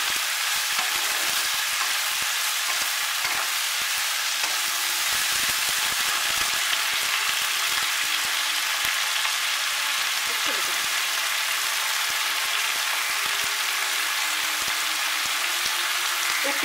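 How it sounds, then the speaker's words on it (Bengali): Onions browning in hot oil for a spiced mutton curry, a steady, even sizzle and hiss running close and unbroken throughout with no voices over it. "এটা বাদামি করেই একটু ভাজবো, কিন্তু পুড়ে যাবে না"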